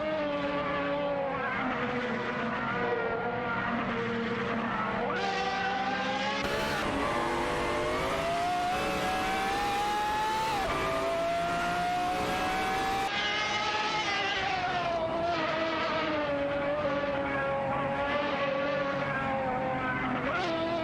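Race cars roar through an AI racing video game, their engines howling continuously with rising and falling pitch as they shift and accelerate, loud and close with no voice over them.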